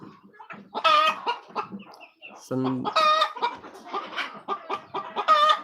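Desi village chickens on a farm cluck and squawk in quick, irregular bursts close by, with several birds calling over one another and a brief deeper honking call partway through.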